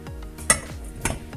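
A bowl of chocolate knocks and clinks against a saucepan of boiling water as it is set in place, with a few sharp ceramic and metal taps over a low background, no voices.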